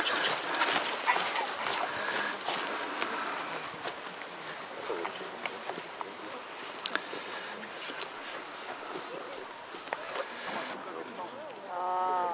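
A hunting dog at an outdoor hunters' gathering in the Bieszczady mountains whimpers and gives scattered barks, fairly close, under ongoing talk and outdoor background noise.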